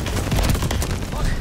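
A shotgun shot in a video game, a loud blast with rumbling gunfire texture over a short moment of dense in-game action.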